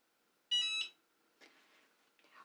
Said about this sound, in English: Once your mug press beeps